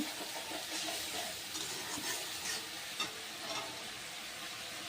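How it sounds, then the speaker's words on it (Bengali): Spices for vegetable biryani, salted to taste, sauté in a hot pan, giving a steady close sizzle and hiss with a few soft stirring scrapes and no talking. "এটা একটু কষিয়ে এটা একটু কষিয়ে নেব।"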